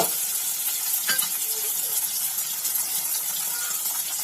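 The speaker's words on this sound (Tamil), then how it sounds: "வெண்டைக்காய் வந்து ஒரு ரெண்டு நிமிஷம் எண்ணெயில் வதங்கினாலே போதும்" Okra sautéing in oil for a Tenkasi-style tamarind kuzhambu gives a steady, close frying sizzle with light stirring scrapes throughout, no talking.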